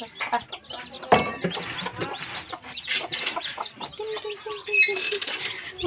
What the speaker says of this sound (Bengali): টিনটিনি বাচ্চা দেখছো মুরগির, অনেক সুন্দর।